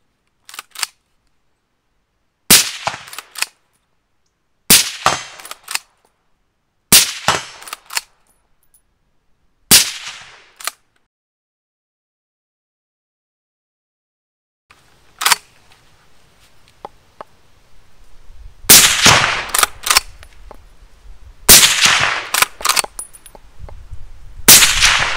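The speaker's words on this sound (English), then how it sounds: "we're going to shoot the thing right-handed" A Beretta BRX1 straight-pull, switch-barrel rifle fires a series of sharp, loud reports, spaced a few seconds apart at first, then a pause and a denser cluster of shots with clacking action noise between them.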